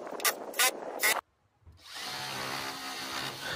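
A drill driver drives screws into wooden gate cross braces, with a few short bursts of whirring at the start, a brief pause, then a longer steadier run of quieter motor hum and rubbing.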